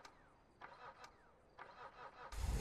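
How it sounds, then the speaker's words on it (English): A car engine cranking over in the GTA 5 video game, several repeated starter whirs in a row before the engine catches and roars up loudly at the end, close and with no voices. "If the engine starts, blooming hell."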